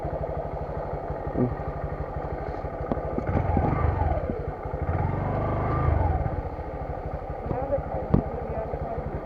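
A motorcycle engine running steadily at a low rumble on a trip route near Nallıhan and Gürleyik Waterfall, swelling louder in the middle, with people talking over it.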